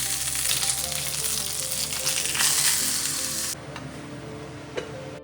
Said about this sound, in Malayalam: ഇനി അതിലേക്കൊന്ന് താളിച്ച് കൂടി ഒഴിച്ചു കൊടുക്കുകയാണ് കേട്ടോ